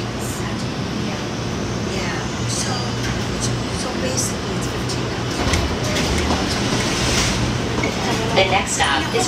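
The Atlanta airport plane train slows to a stop with a steady rumbling roar and a hum, loud and enclosed, as an automated announcement voice speaks over the noise.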